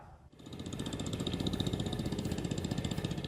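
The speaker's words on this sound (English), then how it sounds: "This is the tractor that Ferguson built." A 1957 Ferguson 35 tractor engine starts up and settles into a steady, rhythmic idle, the evenly pulsing chug growing slightly louder and continuing alone to the end.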